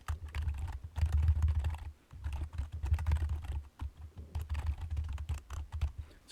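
Steady, continuous typing of code on a computer keyboard, dense runs of soft close key clicks with brief pauses between bursts, no voices over it.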